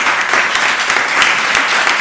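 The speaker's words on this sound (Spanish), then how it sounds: "con el aplauso también de ustedes" An award ceremony crowd in Murcia claps steadily and loudly, a dense wash of applause that holds for the whole stretch with no talk over it.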